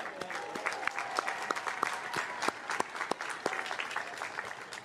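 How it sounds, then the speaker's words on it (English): A commencement ceremony audience claps in a sustained round of applause, a dense patter of many hands with individual sharp claps standing out, moderately distant and steady, with faint voices underneath. "Let's give them a huge round of applause."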